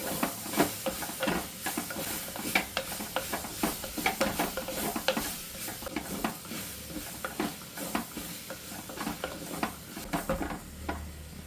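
Cut tomatoes sauté in a pan for Ooty-style rasam, with steady soft sizzling beneath frequent close scraping and stirring strokes, no talking.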